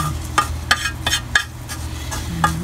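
Minced pork and winter melon sautéing in a pan, a soft steady sizzle broken by several sharp scrapes and clinks of a spatula stirring, close and clear.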